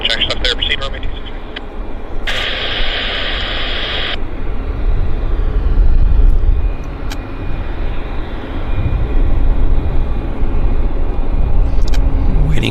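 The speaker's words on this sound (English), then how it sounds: "Waiting for this WestJet to slowly get going." A WestJet airliner idles and slowly begins taxiing at Vancouver airport, a steady broad engine roar close by, with radio chatter and talk layered over it.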